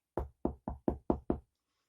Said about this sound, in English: they both heard a knock on the door. And then again, even louder